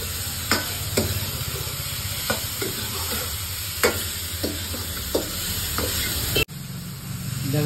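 A steady loud sizzle from a chicken soup base frying in a pan, with periodic stirring clicks, then water is poured in and the hiss drops sharply before settling into a softer bubbling.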